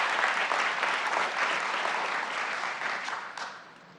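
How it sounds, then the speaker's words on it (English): Steady applause from an audience at a Seattle City Council committee meeting on housing, health, energy and workers' rights, dense and sustained before tapering off near the end, with no talk over it. "One more huge round of applause."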